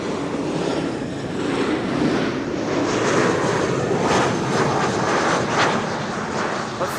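KLM airliner in flight at Amsterdam Schiphol Airport, a loud continuous jet engine roar with a broad rushing wash that swells slightly midway, and no talk over it.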